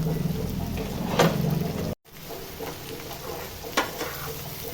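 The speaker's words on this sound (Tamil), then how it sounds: "கொஞ்சம் கருவேப்பிலை போட்டுக்கலாமா." Curry leaves tossed into hot oil for a Tamil bottle gourd mutton gravy crackle and sizzle steadily up close, with a sharp spatter burst early, a brief dropout midway, then sizzling resumes with another pop.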